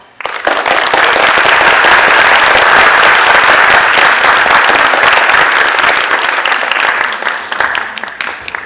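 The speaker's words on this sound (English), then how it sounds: "Let's give a big round of applause for Rhonda Abrams." Loud, dense applause from a large audience at the end of a business talk on entrepreneurship, sustained for several seconds and tapering slightly toward the end.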